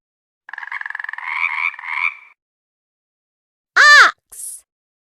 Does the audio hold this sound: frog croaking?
yes